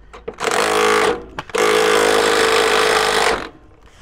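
A power tool tightening parts on a truck cab buzzes loudly in two sustained bursts, a short rattling run followed by a longer steady whir after a brief pause, with small clicks around the start.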